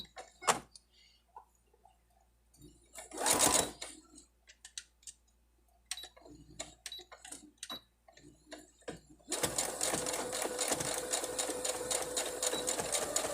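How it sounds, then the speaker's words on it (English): A sewing machine stitches the seam of a fabric face mask with a filter opening, starting with scattered clicks and handling noises, a short run, then a continuous close, rapid mechanical whirr through the final few seconds. "I'm just going to sew it closed right there to make it kind of like a little seam"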